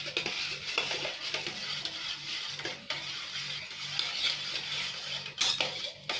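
Barbecue beef stirred in a pan, a utensil scraping and clinking against the metal over a continuous sizzle of frying, close and busy, with no voices.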